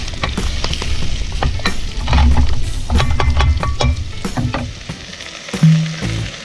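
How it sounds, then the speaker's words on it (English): Mushrooms sautéing in a pan while a utensil stirs them, with repeated sharp scrapes and clatters over a loud, close sizzle and no speech. "Give it a nice bit of a stir. Let it saute for probably 5 minutes until it gets all nice and soft."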